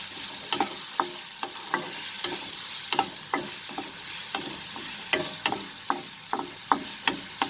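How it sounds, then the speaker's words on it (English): Chopped onion being stirred and fried in a pan for an aloo baingan badi sabzi, with a steady sizzle underneath and regular sharp clicks of a utensil scraping and tapping the pan, close and alone. "we have added the onion, and we will fry the onion for a minute"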